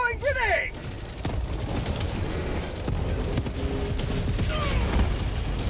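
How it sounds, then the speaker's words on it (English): A grenade blast in a co-op sci-fi shooter lands amid continuous gunfire and rumbling booms, a dense chaotic battle mix with brief high chirps at the start, no clear talk. "Throwing grenade."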